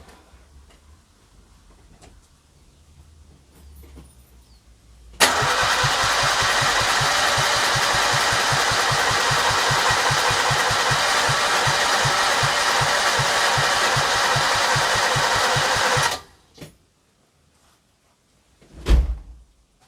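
A Citroën 2CV engine cranks in a rapid, even chugging rhythm with weak-sounding compression for about ten seconds, loud and close, then stops abruptly, followed by a thump.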